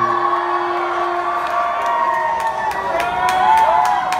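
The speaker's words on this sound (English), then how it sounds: "This is a good ass crowd." Concert crowd at a live show in Raleigh, NC, a steady roar of cheering and whoops with shrill individual shouts rising near the end, loud and continuous throughout.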